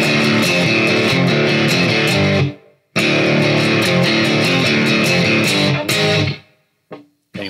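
A distorted electric guitar in drop D tuning chugs through a heavy classic rock riff, loud and close. It cuts out briefly near the three-second mark, resumes, then trails off into a few scattered notes at the end.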